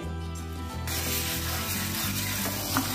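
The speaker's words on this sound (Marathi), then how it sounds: "मग आपण ज्वारी आपण भाजून घेऊया" Jowar (sorghum) grains are roasted in a pan, giving a continuous close rattling and scraping churn with a rhythmic mechanical undertone and brighter grainy rustling after the first second, with no talking.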